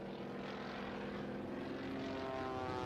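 A Waco propeller biplane drones steadily as it flies low near stall speed, a constant buzzing engine tone heard at a distance and fairly faint.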